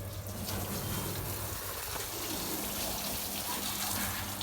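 Water sprays steadily over a car being washed outdoors, a continuous close gushing rush with no pauses and no talking.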